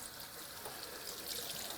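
Hot water running into the tank of a Rug Doctor Pro carpet cleaner, a steady faint hiss and trickle of filling water with no talking.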